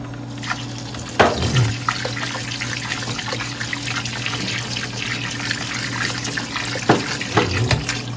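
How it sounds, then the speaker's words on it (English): Grapes rinsed in running tap water at a kitchen sink, a steady close splashing stream with a few louder splashes and clunks as they are dumped in. "I'm just going to take these and I'm going to dump them right into the water"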